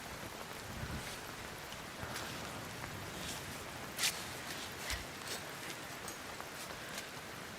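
Steady, faint rain patters across the whole stretch in the video game Cairn, a soft hiss with a few small scattered ticks and one slightly louder drop.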